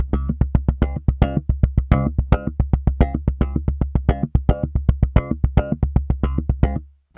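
SlapStick N-100 electric percussion instrument tapped with a fingernail, producing a rapid, steady run of sharp, bright plucked hits over a sustained low drone, close and fairly loud.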